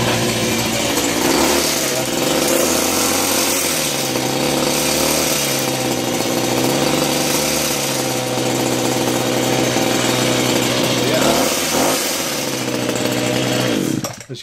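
A petrol Husqvarna hedge trimmer runs steadily close up, its small two-stroke engine buzzing loud and continuous with slight shifts in revving, then cutting off abruptly at the very end.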